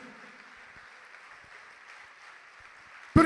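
A church congregation applauding the Lord during a sermon, a soft, steady wash of distant clapping that runs evenly before a sudden loud knock right at the end.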